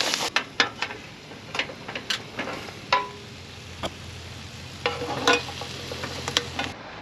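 Seafood sizzles on a red-hot tray, a steady frying hiss broken by sharp crackles and pops, close and fairly loud, with a low hum underneath.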